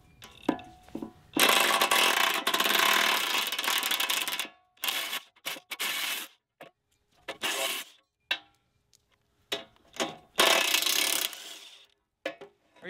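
A ratchet tightens the four bolts holding a heavy-duty ripping edge onto a stump bucket, in rapid clicking bursts of a few seconds each, separated by short pauses and scattered single clicks.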